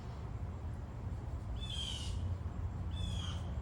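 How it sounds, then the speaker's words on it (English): Crows calling outdoors: two harsh, drawn-out caws about a second apart, moderately distant over a steady low rumble of background noise. "so it sounds like crows"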